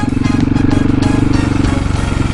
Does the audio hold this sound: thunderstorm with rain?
no